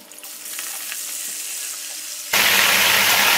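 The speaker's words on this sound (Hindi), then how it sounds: "अब हम इसको फ्राई करेंगे गोल्डन कलर आने तक और फिर इसको हम निकाल लेंगे।" Chicken meat dropped into hot cooking oil for a fry chicken korma, with a faint hiss at first, then a sudden loud, steady sizzle that fills the rest of the clip.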